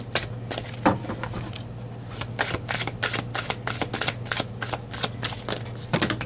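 Tarot cards being shuffled by hand, a run of quick crisp riffles and flicks, close and fairly soft, with an irregular rhythm over a low steady hum.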